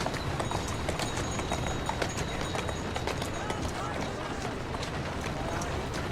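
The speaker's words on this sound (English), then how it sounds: "Who's a good horse?" A horse's hooves clip-clop at a steady trotting pace in the video game Assassin's Creed Syndicate, continuous and fairly close over a busy street-noise background.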